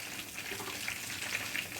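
Chicken legs shallow frying in oil, a steady soft sizzle with faint crackling pops throughout, fairly quiet and without talk.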